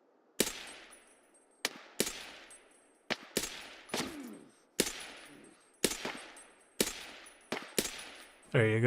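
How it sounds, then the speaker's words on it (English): Gunfire in the Escape from Tarkov (SPT) video game: about ten sharp, loud shots, some single and some in quick pairs, each with a long echoing decay, followed by a brief burst of other noise at the end. "I'm still taking rounds from my right."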